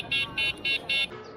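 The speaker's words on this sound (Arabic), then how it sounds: "وكمان كلاكس" An electric scooter's horn sounds four short, shrill electronic beeps in a steady rhythm, loud and close, with faint background noise between them.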